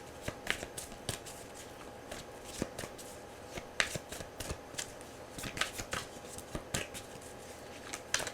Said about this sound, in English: I know you guys hate when I shuffle so long